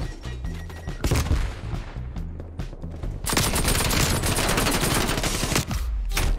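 Machine gun fire in Call of Duty Cold War: loud, rapid bursts of automatic fire in short strings, then a long sustained volley, close and dominant with no talk over it.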